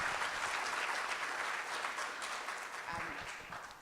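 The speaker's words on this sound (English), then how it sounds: "can I just ask that we all give these young, brilliant people a round of applause" A summit audience applauds young panelists at the Rising Star Summit 2017 with dense, sustained clapping that stays steady and then fades slightly near the end as a voice begins faintly underneath.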